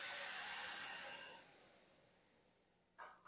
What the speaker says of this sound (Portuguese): O 51 a gente aciona a ventoinha. Pode ver que a ventoinha vai ligar e desligar 3 vezes.